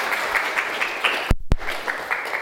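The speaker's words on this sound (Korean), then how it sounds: "우리 박수로 한번 환영하겠습니다." A church congregation claps in welcome during a service, a steady mass of hands at moderate loudness, broken briefly by a short gap and a couple of sharper knocks before the applause resumes.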